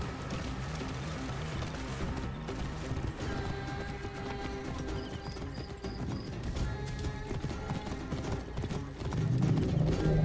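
Horse hooves clip-clopping in Assassin's Creed Origins on a beach, a steady gallop running under game music and ambience with an occasional whinny, moderately loud throughout.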